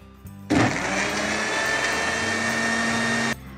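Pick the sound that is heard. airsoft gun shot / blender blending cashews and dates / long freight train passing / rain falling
blender blending cashews and dates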